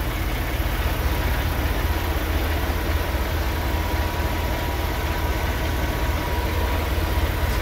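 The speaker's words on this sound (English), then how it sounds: "One of the things you can actually tell is while the truck is running how quiet it is." A 2020 model 389 diesel truck engine idles nearby with a steady, low, even rumble that continues unchanged throughout.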